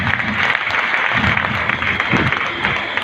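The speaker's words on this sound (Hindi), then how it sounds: "जोर ताली होना चाहिए।" An audience at a gathering bursts into sustained clapping, a dense, steady patter of many hands lasting the full few seconds, with some voices faintly mixed in.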